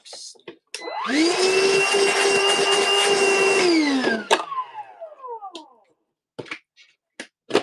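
A Milwaukee M18 battery vacuum whirs up to a loud, steady whine for about three seconds, then winds down as it is switched off, followed by a few scattered clicks and knocks.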